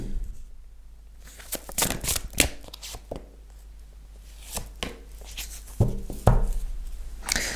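Tarot cards are shuffled close by in quick irregular bursts of riffling and slapping, with short quiet gaps between, ending in a few sharper knocks and flutters.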